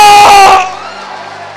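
A church congregation jumping and shouting at a revival service, a loud burst of massed cheering and yelling that cuts off abruptly and leaves only faint room noise.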